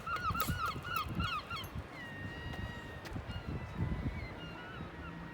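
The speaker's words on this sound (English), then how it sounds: "And there's the seagulls." Seagulls call repeatedly through fog on the seaside at Filey, their squealing cries fairly close and layered over a soft outdoor ambience without talking.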